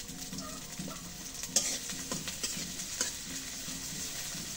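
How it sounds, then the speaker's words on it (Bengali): Chili and onion sizzle steadily in hot oil in a pan, with a spoon scraping and stirring in quiet, irregular strokes and small taps against the pan, close and fairly soft, no talking. "এটুকু দিয়ে একটু ঘামাই নিই, মরিচ পেঁয়াজটা একটু ঘামাই নিই"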